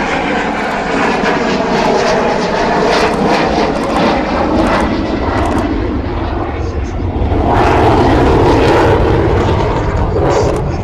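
Avro Vulcan XH558 bomber flies a display at the Farnborough Air Show with gear down, its engines a loud, continuous roar that swells toward the end while a commentator talks over it.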